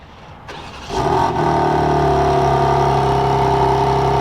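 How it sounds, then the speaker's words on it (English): A 2023 BMW M4 Competition Convertible engine, started by remote, cranks and catches, then settles into a loud, steady idle with a deep exhaust rumble that holds to the end. "let's go ahead and listen to that exhaust though, because this has remote start"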